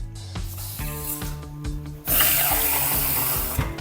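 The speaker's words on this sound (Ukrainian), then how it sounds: "Заливаємо в два рази більше водою." Water runs from a tap into a pot for cooking rice, first in bursts and then as a steady, louder stream, with metallic clicks and clatter along the way.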